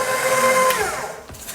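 An electric mixer beating batter in a bowl, a loud, close, steady whirring hum whose pitch slides and shifts as the beaters move through the mixture.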